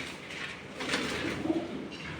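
A racing pigeon coos softly nearby, a short low rolling call repeated against faint background hiss, with no talking.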